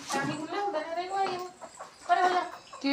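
Chickens on a rural household farm on a rainy day, about to be shut in, cluck in short bursts close by, mixed with people talking.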